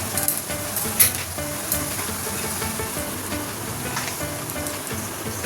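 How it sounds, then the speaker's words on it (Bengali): Pabda fish are dropped into hot oil and fry with a loud, steady, close sizzle, briefly spiking as pieces go in, with no talking. "ফুটে গেছে, এবার মাছগুলো দিয়ে দেবো।"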